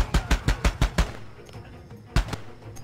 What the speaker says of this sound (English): that was a bit of a more heavy machine gun